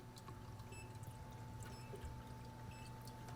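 Water pours steadily into the reservoir of an AeroGarden Farm indoor garden, a soft continuous trickle heard close and quiet over a faint electrical hum.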